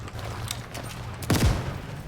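A short burst of rapid gunfire rings out over steady background noise in the video game World War 3, with a few quicker shots clustered in one brief volley.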